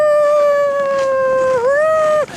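A person imitates a coyote howl, a single sustained, loud, close wailing tone that rises and dips near the end before breaking off, with no other voices.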